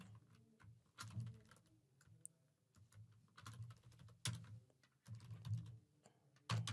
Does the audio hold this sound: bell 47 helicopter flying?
no